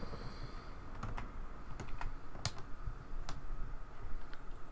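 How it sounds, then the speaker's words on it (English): A creaky keyboard tray at a desk gives a scattering of sharp, close clicks and ticks over a few seconds, irregular and fairly quiet, with no one talking. "Keyboard trays making all kinds of creaky noises."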